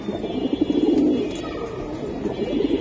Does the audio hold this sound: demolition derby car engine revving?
no